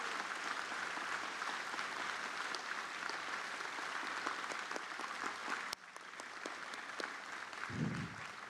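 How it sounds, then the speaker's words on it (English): Sustained applause from a large crowd at Taiwan's National Day address, steady and dense clapping throughout, with a brief dip partway and a low thump near the end. "Please join me in giving them a warm round of applause"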